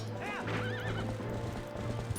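A horse in The Legend of Zelda: Twilight Princess HD gives a loud wavering whinny with rising and falling pitch, while quick clip-clopping hoofbeats run underneath and continue after the neigh fades.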